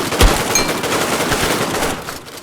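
Enemy gunfire in the video game Redmatch 2, a sharp loud shot followed by a quick string of rapid automatic rounds, close and dominant with no talking.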